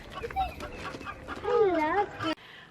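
Chickens cluck and warble nearby, a rising and falling hen call standing out before it cuts off abruptly.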